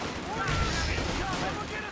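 Grenade blasts and gunfire from a real-time strategy video game battle form a dense, steady roar of overlapping shots and booms across the whole moment, with no quiet gaps.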